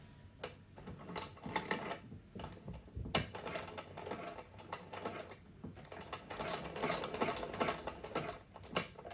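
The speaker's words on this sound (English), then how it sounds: "if you've got a machine that can do zigzags, then you can zigzag" A home sewing machine zigzag-stitches elastic for a fabric bowl cover, its quiet, irregular clattering bursts starting and stopping close by with no talking.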